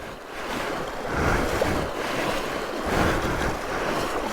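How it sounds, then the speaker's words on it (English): Mountain stream water in the Australian Snowy Mountains, flowing with a noticeable current over rocks: a steady, broad rushing wash that swells and eases, mixed with gusty wind noise and no talking. "Gee, the water's got a bit of current to it."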